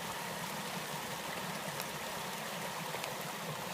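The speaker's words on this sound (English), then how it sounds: "I want you to have an idea of the amount of water that comes down here" Mountain stream on the Starr Trail in winter, rushing water producing a constant broadband hiss, steady and moderately close with no voices.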